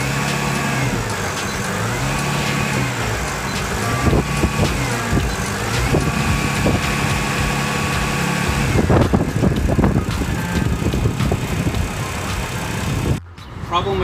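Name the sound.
Mercruiser 4.5L boat engine running at high idle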